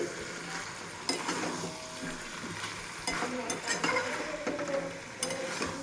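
Taro curry with prawns being sautéed in a pan, with a soft sizzle under repeated scraping and clattering stirs of a utensil against the metal, close and fairly quiet.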